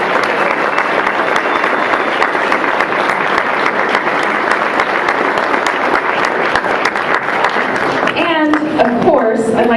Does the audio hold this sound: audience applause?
yes